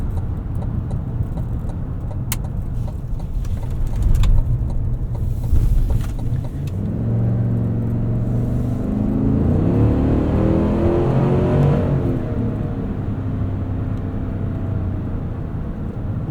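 A 2025 Cadillac Escalade Platinum 4WD with a 6.2-liter V8 cruising on a back road at night, a steady low engine and road drone that rises into a brief revving swell as it accelerates.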